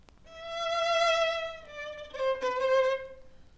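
A solo violin plays a short sustained melody. A quick double grace note flicks into a higher held tone partway through, and the sound is clear and close.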